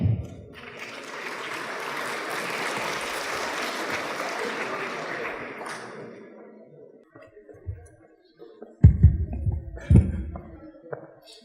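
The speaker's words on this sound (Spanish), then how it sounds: "Un fuerte aplauso para él" Audience at a lecture on constitutional economic rights in Ecuador applauding a speaker, dense clapping for about six seconds that fades out, followed by scattered thumps and handling noises.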